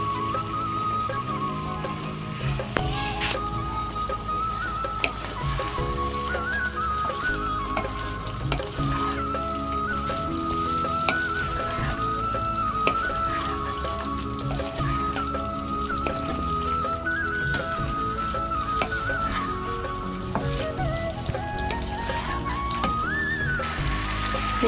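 Spiced potato curry with chili powder and yogurt fries in a pan, giving a steady, continuous sizzle with occasional stirring crackles under background music.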